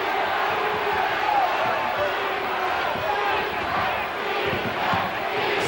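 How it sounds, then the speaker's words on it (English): A large basketball arena crowd at a 1979 NBA game between the Seattle SuperSonics and the Phoenix Suns chants "defense" in a steady rhythmic roar, with a broadcast voice faintly underneath. "Crowd chanting defense."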